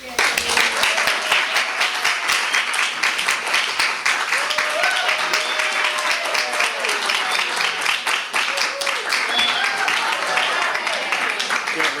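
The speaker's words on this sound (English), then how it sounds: "let's please give a warm round of applause to Antoine and some fantastic pants" Audience at an author event gives sustained, even applause, a warm round of clapping holding at a steady level throughout, with faint voices or cheers mixed in.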